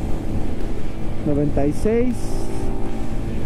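A Vento Rocketman 300 Racing motorcycle engine runs at highway speed in fifth gear, a steady engine drone mixed with wind rush, while a rider speaks briefly over it.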